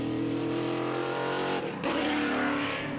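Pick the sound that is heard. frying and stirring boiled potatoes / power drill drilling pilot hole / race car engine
race car engine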